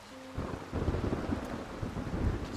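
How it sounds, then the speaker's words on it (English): Thunder rumbles low beneath a steady wash of rain inside the video game Fae Farm, a continuous dense storm texture that swells after the opening moment and holds moderately loud to the end, with no talk over it. "it's technically raining in here."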